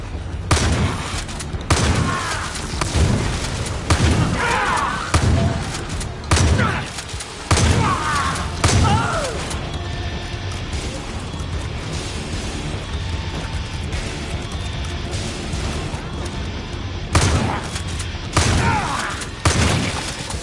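Gunfire and explosions in the Far Cry 5 zombie DLC: repeated loud bursts of shots and blasts, heavy in the first half and again near the end, over a continuous combat rumble.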